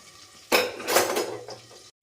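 A lid clatters down onto a frying pan of mackerel fry, a sharp metallic clang that rings briefly, then quiet frying sizzle settles underneath before an abrupt cut.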